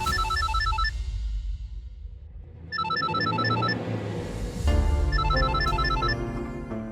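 A phone ringtone plays loudly in a domestic drama scene, its melodic, chiming pattern repeating several times over a steady low backing with no one speaking.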